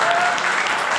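Audience clapping during a talk by an education office head; a brief, loud burst of dense clapping from a hall, with a voice faintly present underneath.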